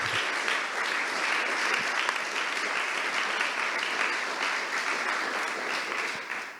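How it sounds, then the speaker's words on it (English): A lecture audience gives sustained, dense applause, steady and loud throughout before it begins to taper at the end. "Let's give a very big applause to Martin for his mini-quiz."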